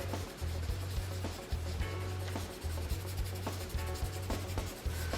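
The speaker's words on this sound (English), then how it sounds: "where I put that charcoal down, blend it out" A paper stump blends charcoal across drawing paper in steady repeated rubbing strokes, close and soft with a rhythmic scratchy texture, with no talking.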